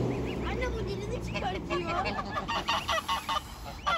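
Geese on the water honk in repeated nasal calls that grow more frequent toward the end, with people talking in the background.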